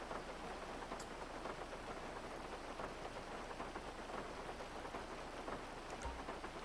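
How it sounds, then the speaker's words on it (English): Steady rain falls in a video game city, a continuous hiss of drops on surfaces with faint distant rumbles and no talk. "Of course, it's gonna rain."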